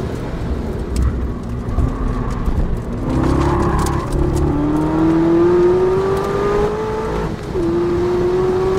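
A 2012 Chevrolet Corvette ZR1 engine driving at the Nürburgring, loud and close, with a rising, climbing engine note that drops back at each gear change and keeps accelerating, with no voices.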